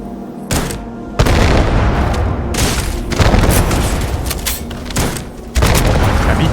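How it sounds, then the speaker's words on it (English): Hornet's Nest grenade launcher firing in Starfield, a loud sustained barrage of booming blasts with sharp onsets roughly every second or two, dense and continuous with no talk. "These are the best grenade launchers in the game"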